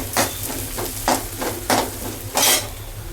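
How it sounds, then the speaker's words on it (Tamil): Green beans sauté in oil in a pan, with a low steady sizzle under a handful of spaced scraping stirs of a spatula, close and without talk. "பீன்ஸு அந்த எண்ணெயிலே கொஞ்சம் நேரம் வதக்கிட்டு"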